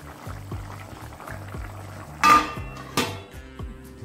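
A lid clanks onto a metal pot of papaya and potato curry with a bright metallic clatter, and a second knock follows shortly after. Soft rhythmic bubbling and ticking from the stove continue underneath.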